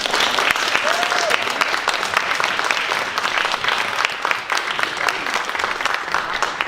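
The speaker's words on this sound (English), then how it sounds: "Please give a huge round of applause to John Polish" Loud, sustained applause from a conference audience at the Unstuck Happiness Conference, dense clapping filling the room steadily for several seconds.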